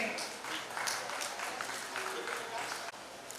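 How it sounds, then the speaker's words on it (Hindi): Welcoming applause at a Balram Jayanti award distribution event, a fairly faint, steady crowd clapping with people talking over it. "जोरदार तालियों से दिव्य प्रकाश का स्वागत करें।"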